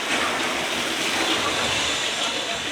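Water fountains arching overhead along the Journey of Water attraction at Epcot, a continuous splashing gush heard close by, with faint voices mixed in.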